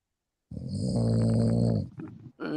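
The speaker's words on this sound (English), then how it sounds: "There's someone snoring." A person snores loudly and close by: one long, rough, droning inhalation followed by a brief breathy release, with silence before it.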